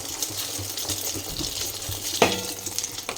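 Three cracked eggs go into a hot frying pan together, giving a steady, close sizzle with one sharp crackling burst partway through.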